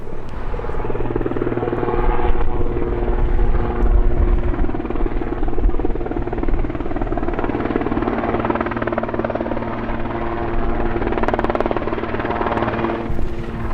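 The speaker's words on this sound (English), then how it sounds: "it's about to get really busy here with choppers and water bombers coming in," Firefighting helicopters run steadily at an airport, a loud continuous rotor drone with a low throb that holds throughout, apparently nearby.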